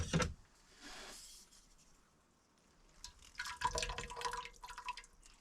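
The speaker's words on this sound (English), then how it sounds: "So what I'm going to do now is squish out the tea." Brewed tea dripping and trickling as tea bags are squeezed out for kombucha in a kitchen, faint and close, a short wet squish and drip, a quiet pause, then a cluster of drips and splashes, with no talking.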